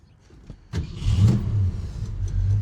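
A restored 1964½ Ford Mustang coupe with a D-code 289 V8 and four-speed cranks briefly, fires up quickly and settles into a close, steady, loud idle with a low rumbling pulse.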